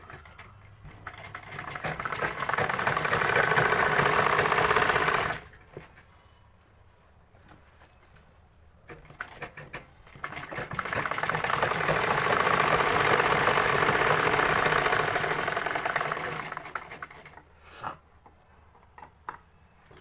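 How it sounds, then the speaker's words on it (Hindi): A sewing machine stitches a belt onto a salwar in two bursts of steady whirring and rattling, about five seconds each, with a quiet pause and small clicks between them. "तो ये एक सिलाई हम इसमें और लगा देंगे इधर की साइड"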